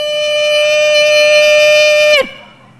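A maghrib siren marking the end of the Ramadan fast wails on one steady, loud tone, then abruptly drops in pitch and cuts off.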